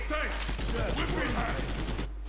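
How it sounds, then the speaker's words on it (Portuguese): A burst of rapid gunfire in a shootout in the video game Inversion: dense, continuous shots fill most of the stretch, some with a voice over them, then cut off near the end. "E pronto, começou o tiroteio."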